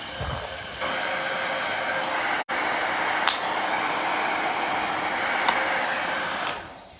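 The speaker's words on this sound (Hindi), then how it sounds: "मिनी ड्रायर इस तरह फोल्ड करें, जहां मर्जी ले जाएं अपने बैग में रख के।" A foldable metal mini hair dryer runs with a steady, close airflow whoosh that holds through the clip, broken by one brief cutout and a couple of faint clicks.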